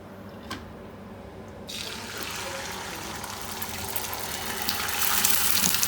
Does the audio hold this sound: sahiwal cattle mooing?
no